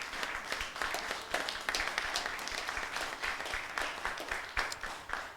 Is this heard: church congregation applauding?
yes